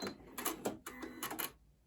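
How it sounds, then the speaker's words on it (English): Janome Memory Craft 8200 QCP sewing machine running its automatic thread cutter, a quick series of mechanical clicks and whirring snips close up, with no talking. "which will cut the thread, raise the needle, and then I can remove the fabric from my sewing machine"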